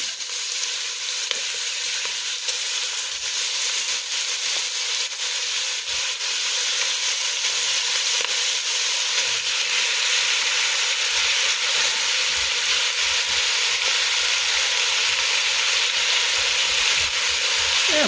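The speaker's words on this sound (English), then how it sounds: "You can hear it sizzling because the pan's hot." Ground beef sizzles in a hot pan with olive oil, a loud, constant crackling hiss that holds evenly for the whole stretch with no talk over it.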